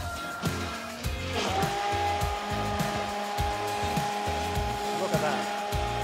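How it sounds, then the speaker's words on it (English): A blender whizzes white miso dressing with a loud, steady motor whine and a rough, fluttering churn that runs without a break for several seconds. "And we'll whiz that up to miso-fection."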